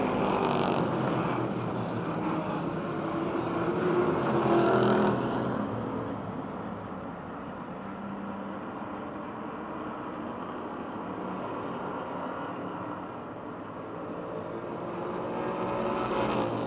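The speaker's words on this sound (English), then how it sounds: "2 cars have checked out from the rest of the field as Teddy Gibala is a distant third." Stock cars racing at Motordrome Speedway, a steady loud engine roar from a pack of cars sustained throughout, swelling as cars pass and easing off briefly mid-race.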